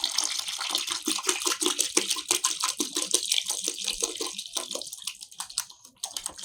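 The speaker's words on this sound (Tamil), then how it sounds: "ஆரோ தண்ணி தாங்க ஊற்றணும்." Purified RO water poured from a container into a phenyl cleaning mixture, a continuous splashing, gurgling stream close up that thins and trickles out near the end.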